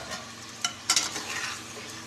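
Masala frying in oil for a fish curry, a soft continuous sizzle broken by a few sharp scrapes and clinks as a spoon stirs the pan; no speech.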